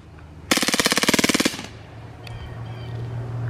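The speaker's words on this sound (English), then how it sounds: "Fully automatic, mag dump." An Umarex Beretta M9A3 blowback BB pistol powered by CO2 fires a fast full-auto burst of about fifteen sharp, loud cracks in an even rhythm, lasting roughly one second, followed by quiet room tone.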